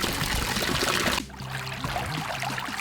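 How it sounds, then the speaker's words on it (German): Flowing water from a fountain and a stream as a nature ambience: a broad, steady rush of trickling water for the first second, then a quieter, softer flow with gentle bubbling. "Brunnen, Bäche."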